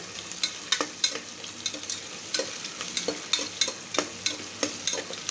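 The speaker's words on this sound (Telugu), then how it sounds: "వేసి కలుపుకోండి బాగా వేగనిద్దాం ఒక ఫైవ్ మినిట్స్" Onions and green chillies fry in a pan as they are stirred, an even sizzling hiss broken by frequent sharp scraping clicks of the spoon, close and with no voices.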